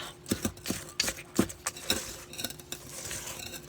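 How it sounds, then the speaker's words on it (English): A spoon knocks and scrapes against a bowl while chocolate chip pie filling is stirred, with a quick, uneven run of light clinks, faint and close. "This is this last chance to get it all stirred up."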